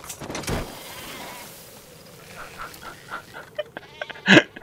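A goat bleats in the video game Metal Gear Solid V: The Phantom Pain, with a loud, sharp cry near the end after a quieter stretch of game ambience and a few faint calls.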